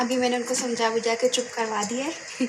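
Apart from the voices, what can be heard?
No everyday noises stand out.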